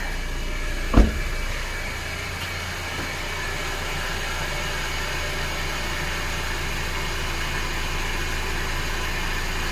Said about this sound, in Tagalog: Umandar na yung ating fan.